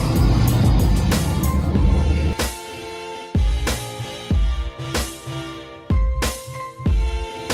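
A Volvo Transjakarta bus operated by Steady Safe, riding Koridor 5 from Kampung Melayu toward Ancol, gives a close engine drone that surges and drops in repeated bursts, heard from inside with no talk.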